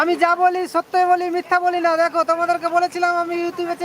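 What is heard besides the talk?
No everyday noise stands out behind the speech.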